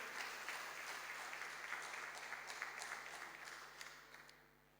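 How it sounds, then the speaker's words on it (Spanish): A church congregation applauds at a sermon, a steady wash of clapping heard faint and somewhat distant that slowly fades toward the end. "aplaudieron ahí"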